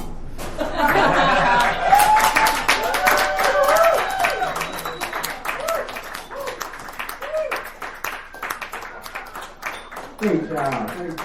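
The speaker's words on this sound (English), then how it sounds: "Another round of applause for Julie Delaretti." Dive bar comedy show audience clapping and chuckling after a comedian's set, scattered applause mixed with laughter while a voice talks over it, tapering off then briefly swelling again.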